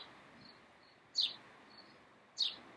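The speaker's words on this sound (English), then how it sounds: "You hear the birds?" Two short, bright bird chirps about a second apart, with faint thin calls in a quiet background.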